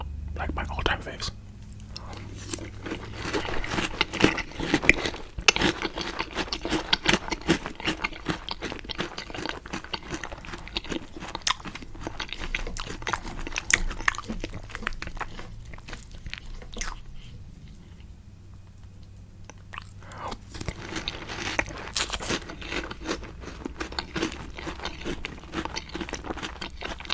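Chocolate breakfast cereal eaten close to the microphone, with repeated crisp crunches and wet chewing in irregular bursts, broken by quieter pauses and soft whispered talk, intimate and near.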